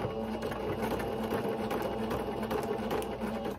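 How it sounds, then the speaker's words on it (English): A sewing machine stitches a ruffle tutu sock, running in a continuous rapid mechanical whir with an even rhythm from start to finish, close and fairly quiet, with no voices. "I leave a little bit of room in between so that I can make the cut, and I just start sewing."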